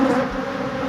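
Bees buzz in a dense, steady drone at a beehive damaged by beetles, close and continuous, with no talking.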